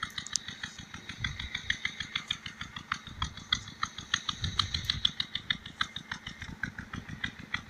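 A petrol engine-driven water pump runs steadily, its rapid regular chugging firing pulses loud and close, with a faint rattling hiss above, alone without talk.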